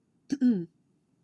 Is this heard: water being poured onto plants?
no